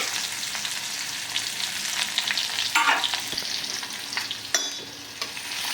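Garlic and shallots sauté in a hot pan with a steady, crackling sizzle, and a few stirring scrapes stand out near the middle and end; no one speaks.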